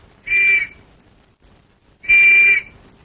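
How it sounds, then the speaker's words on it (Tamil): Two loud, shrill whistle blasts, each about half a second long, sounding close with a short gap of quiet between them. "அப்புறம் ஏன் விசில் ஊதுற?"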